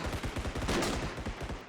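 Rapid automatic gunfire in the video game Bodycam rattles off as a quick, even string of shots, fairly faint and distant, with no talk.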